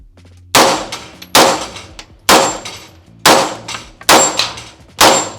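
Six loud, sharp gunshots ring out at an outdoor shooting range, each followed by a bright metallic clang as it strikes a steel plate rack, fired in a quick, fairly even rhythm with short ringing decays.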